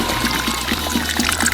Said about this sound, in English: the trees are getting watered